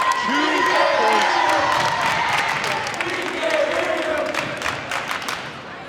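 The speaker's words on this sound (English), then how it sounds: "the cheering has been incredible from both sides, from both Wakefield and from Wilmington" Crowd at a girls varsity high school volleyball game between Wakefield and Wilmington, sustained loud cheering and shouting from both sides of a gym, with whistles and claps mixed in, fading slightly toward the end.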